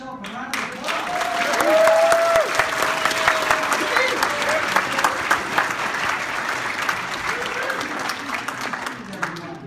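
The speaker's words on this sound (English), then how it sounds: "Congratulations, give yourself a round of applause." A crowd at a U.S. citizenship ceremony applauds, the clapping swelling early and then holding as a dense, steady patter, with voices and a few whoops rising over it.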